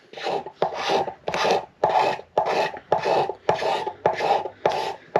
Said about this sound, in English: And I'm touching up in the heel area here a little bit. Now that I've got a real scraper.